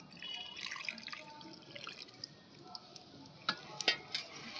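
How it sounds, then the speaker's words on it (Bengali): Faint liquid trickling and splashing as milk is poured into a kheer pitha mixture, soft throughout with a few sharper splashes near the end. "যেই দুধটা তুলে রেখেছিলাম, পরিমাণ মতন দুধ দিয়ে দিচ্ছি।"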